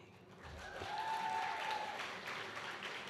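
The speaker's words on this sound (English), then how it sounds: "I'll invite the following athletes to join me up here for a round of applause." A high school athletic banquet audience gives a short round of applause for athletes, moderate and steady clapping that swells slightly midway, heard from within the room.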